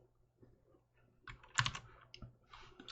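Quiet typing on a computer keyboard, a brief cluster of light key clicks with a couple of slightly firmer taps, close by and without speech.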